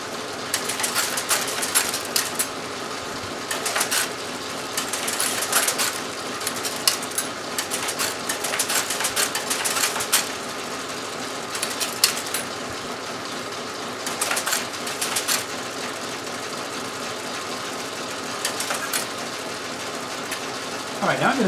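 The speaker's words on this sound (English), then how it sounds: "Now I'm assembling the line with space bands, so each time I hit the space key, one of these space bands drops in." A Linotype typesetting machine assembling a line with space bands, giving a continuous mechanical clatter of ticks, drops and ratcheting matrices, fairly close and busy throughout with no voice over it.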